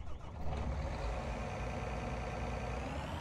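A combine harvester engine in Farming Simulator 19 runs steadily with a dense, continuous low rumble and whine, loud and unbroken with no talk.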